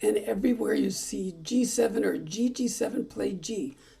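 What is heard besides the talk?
No distinct noise like a dog, phone or traffic.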